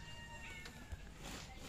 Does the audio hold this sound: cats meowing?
yes